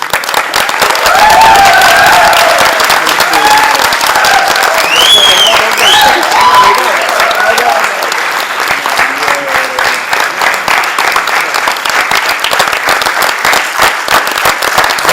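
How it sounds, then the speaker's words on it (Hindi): Loud, sustained applause from a theatre audience at a Hindi stage play, filling the whole stretch with dense clapping and some crowd noise. "एक बार जोरदार तालियां इस धरती के लिए होनी चाहिए"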